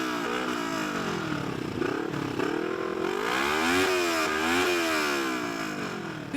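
Motorcycle engines rev and rise in pitch on a sunny Sunday ride, several bikes overlapping in sweeping, layered climbs and dips of a buzzing roar, loud and continuous.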